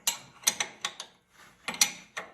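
A wrench ratchets while tightening an oil filter on an old Massey Ferguson tractor, making close, crisp clicks in short uneven bursts with a brief pause between them.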